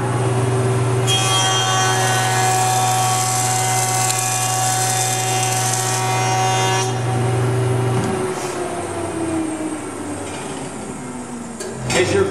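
A jointer cutting a pass along a wooden board, its steady loud motor whine with bright harmonic cutterhead tones running for several seconds before the cut ends and the machine drops to a lower, fading hum.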